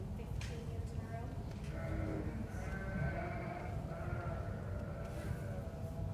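Sheep bleating in a stage comedy scene, wavering bleats repeated over a steady background, with people talking.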